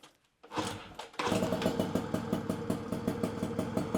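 An old moped engine catches after sitting unused for 14 years, with a brief low rumble and then a close, steady putt-putt idle that holds an even, fast rhythm, without talk.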